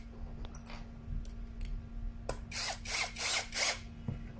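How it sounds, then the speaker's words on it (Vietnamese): A Toyoko cordless drill bores into a wall, its motor whirring in several short bursts, with a couple of sharp clicks and a brief knock between them. It sounds close and fairly loud, with no talking. "Khoan tường ok luôn nha."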